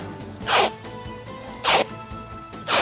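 Duct tape ripped off the roll in three separate loud, rasping pulls spaced about a second apart, close up against a steady low room hum.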